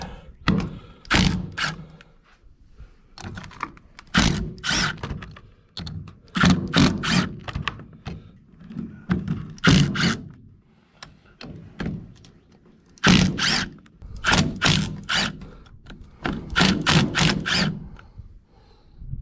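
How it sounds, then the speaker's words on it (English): An impact wrench spins bolts out of the rear differential case of a Polaris Sportsman 850/1000 ATV, firing a series of loud, close, rattling bursts separated by short pauses. "Now I'm going to start splitting the case, taking these bolts out with my impact."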